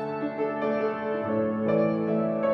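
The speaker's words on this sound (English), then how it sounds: "It's a sound of an old piano played for all connoisseurs of pictorial art." Sustained chords on an old piano ring out with rich harmonics in Lutsk, Ukraine, a few notes struck in succession and left to resonate, moderately loud with no voices.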